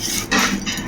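A spoon whisks egg omelette batter in a bowl, with fresh coriander leaves, chili powder and salt mixed in; a brief, loud, close scraping and clinking with no talk.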